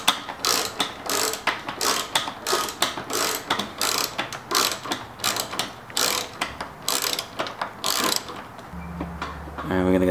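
A socket ratchet clicks rapidly in repeated bursts while loosening the bolts on the intercooler bracket of a Ford Fiesta ST, loud and close, with a brief low mechanical hum at the end.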